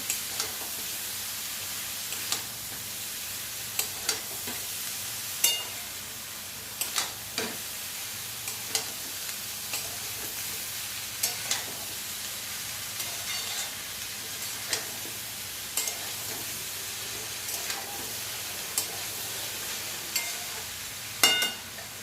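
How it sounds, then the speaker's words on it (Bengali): Potato and cabbage cooking in a pan, with a steady sizzle and soft frying hiss throughout and occasional clinks and scrapes of a spoon stirring the vegetables. "তো এখন ভালো করে একটু নাড়াচাড়া করে নেব।"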